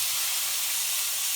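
Chopped tomato hits a hot pan and sizzles with a steady, bright, even hiss up close, with no talk over it.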